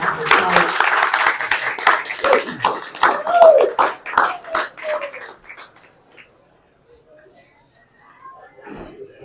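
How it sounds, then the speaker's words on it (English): Audience applause at a council meeting, a steady patter of many hands clapping for several seconds before fading into near silence, with a voice faintly heard near the end. "Let's give Linda an applause as she walks in."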